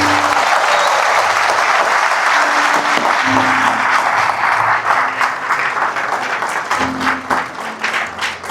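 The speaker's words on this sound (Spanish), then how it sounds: "Denle un aplauso a Jesús" A church congregation applauds Jesus during a sermon, a loud, dense wash of clapping that holds steady and then thins toward the end, with faint organ or keyboard tones sounding underneath.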